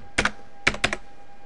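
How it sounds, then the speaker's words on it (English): Typing a web address on a computer keyboard: a quick single pair of clicks, a short pause, then a cluster of four crisp keystrokes close by in a quiet room. "in the address bar up here, we're going to type in"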